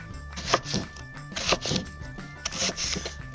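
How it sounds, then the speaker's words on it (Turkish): Small village eggplants are sliced into rounds with a knife, producing soft, close, crisp cuts in short bursts spread across the clip, with a faint steady hum beneath. "Küçük patlıcanlarımızı yuvarlak yuvarlak doğruyoruz."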